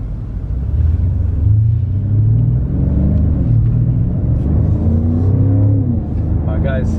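A BMW M5 Competition engine pulls hard under acceleration on an open road, a loud, close, steady rumble with rising engine tones throughout the run.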